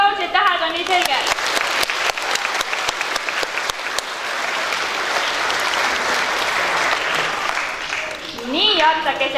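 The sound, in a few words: big applause at school ceremony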